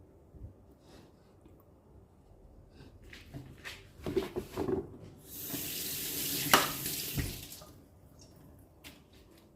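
Running tap water splashes over hands at a sink, beginning with faint handling sounds, then swelling into a steady rush before tapering off.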